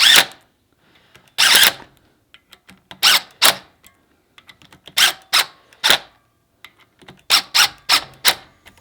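A power driver runs screws into a see-through sportbike clutch cover in short, sharp, whirring bursts, some clustered in quick pairs, with quiet gaps between them.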